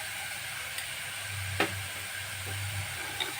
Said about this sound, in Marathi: तोही चांगली परतून घेऊया.